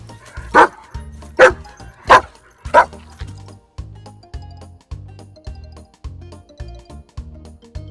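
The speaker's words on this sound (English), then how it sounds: "one loud bark for dogs" A dog barks four times in loud, evenly spaced bursts, then keeps up softer low yips and whimpers in a steady rhythm.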